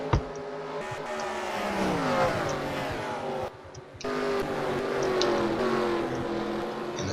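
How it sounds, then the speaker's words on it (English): NASCAR Nationwide Series stock cars at the 2014 ToyotaCare 250, engines roaring continuously at high revs on track, swelling and fading as cars pass, with a brief dip midway. "Looks like he's not really able to pull away from Larson in that 42 car."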